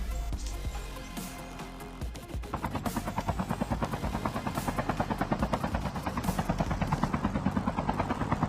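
Helicopter in the mobile shooter Call of Duty Mobile: a steady, loud rhythmic rotor thump that builds after a brief quieter start and continues unbroken, with no talk.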